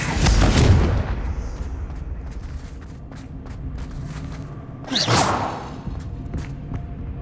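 Confringo fire spell blasts in Hogwarts Legacy: a heavy booming burst at the start, then a second whooshing explosive blast a few seconds later over low rumbling game ambience.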